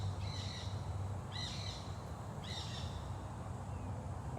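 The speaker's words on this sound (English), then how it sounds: "There's some parrots flying over. That's pretty cool." Parrots flying over a big cat rescue sanctuary give three harsh, raspy squawks about a second apart, faint and distant against a low background hum.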